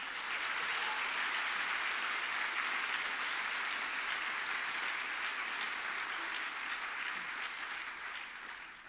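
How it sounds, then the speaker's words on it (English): Sustained audience applause at a BAHFest London science comedy event, a dense steady wash of many hands clapping that holds for the whole stretch and tapers slightly at the end, with no talk over it. "Okay, round of applause for Jan Gupta."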